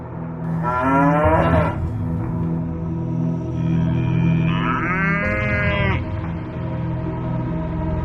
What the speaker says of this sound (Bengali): এদিকে গোয়াল থেকে গরুগুলো এমন করে ডাকছে